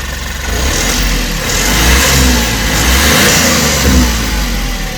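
An Ashok Leyland Dost LS 4 light truck engine revs up from idle, a loud, close, steady mechanical drone with low rumble that rises and holds, swelling slightly a few times.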